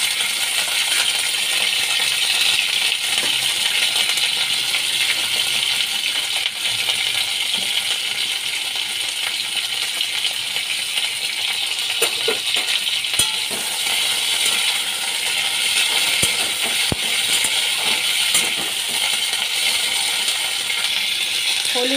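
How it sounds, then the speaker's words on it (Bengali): Long beans fry in hot oil in a steady, bright sizzle that stays loud and even throughout, with scattered small crackles and pops and no voices. "তেল গরম হয়ে গেছে, তেলের মধ্যে আমি বরবটিগুলো ভেজে নিচ্ছি।"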